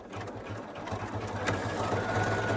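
A Poolin EOC06 embroidery machine stitching blue thread over black, a steady rapid mechanical whirring and needle chatter, close and continuous without speech.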